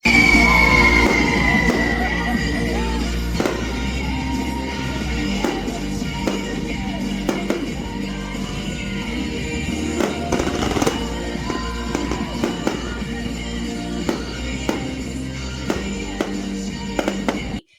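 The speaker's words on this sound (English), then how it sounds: "They had the fireworks show at 9:30." Fireworks show at an evening waterpark event during a conference, a continuous dense wash of crackling bursts and booms at mid distance, with scattered pops, a distant whistle early on and crowd noise and voices mixed underneath throughout.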